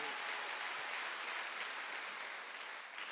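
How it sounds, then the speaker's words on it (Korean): A church congregation at a Sunday worship service breaks into loud, even applause that fills the space for a few seconds and fades a little toward the end. "빨리 박수를 한번 드세요."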